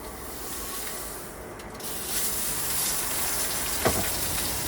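Trout frying in butter in a pan gives a steady, close sizzle and hiss that runs the whole time, with a brief clink near the end.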